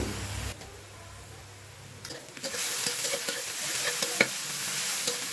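Ginger-garlic paste hitting hot oil in a pan for chicken curry: a quiet start, then a sudden loud sizzle that keeps crackling and hissing steadily, with occasional spatters up close.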